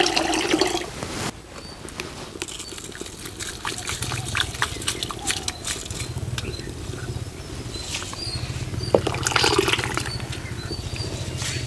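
Water pouring and splashing into a pressure cooker of rice and lentils in uneven bursts, with trickling and patter and faint clatter around it.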